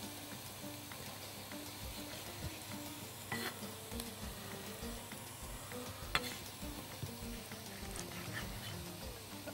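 Chicken gizzards and hearts fry in a pan with a steady, close sizzle and crackle, with occasional stirring clinks and scrapes breaking through the constant hiss; no one speaks.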